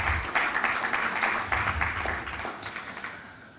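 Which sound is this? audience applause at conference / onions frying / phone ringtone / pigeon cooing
audience applause at conference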